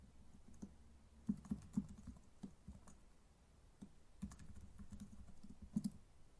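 Quiet, close typing on a computer keyboard while HTML code is entered: short bursts of soft key clicks separated by brief pauses, with no speech.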